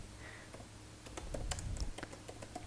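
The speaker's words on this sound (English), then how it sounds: "So here I will type create a Razorpay" Someone types on a computer keyboard while coding. Close, quiet key taps start sparsely, then come in a quick irregular run of clicks.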